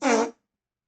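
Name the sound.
voice imitating fart noises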